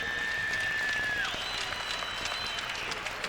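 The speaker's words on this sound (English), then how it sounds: "A big round of applause for what a great main event at the American Airlines Arena." Crowd applause fills an arena after a boxing main event at the American Airlines Arena, a steady dense roar of clapping and cheering that stays loud throughout, with a brief tone fading early on.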